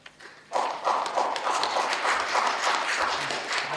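An audience claps in rapid, fairly even bursts at a Korean political speech event, starting after a quiet moment and continuing steadily at moderate loudness.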